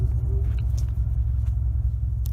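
A 2018 Cadillac ATS 2.0 AWD turbo idles in line at Gun Raceway in Fallon, Nevada, a steady low rumble running unbroken throughout, close and continuous.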